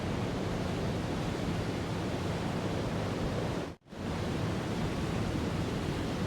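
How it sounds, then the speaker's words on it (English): Loud, steady broadband rush of wind-driven waves crashing against a Type VIIB U-boat tower in the WWII submarine game UBOAT, continuous and close, with a brief sharp dropout near the end before the roar resumes. "And the winds are crashing already on the tower."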